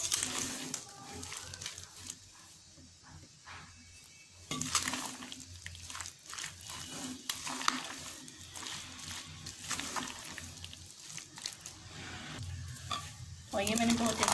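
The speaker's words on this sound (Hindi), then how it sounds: "तो मैं इसको अच्छे से मिक्स कर रही हूँ।" Russian salad being stirred and mixed in a bowl, a steady run of soft wet scraping and clinking strokes up close, with brief quiet gaps and busier stretches near the end; no one speaks.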